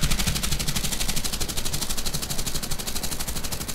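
Aircraft machine guns firing in War Thunder, a loud, rapid, continuous burst of evenly spaced rattling shots up close without a break.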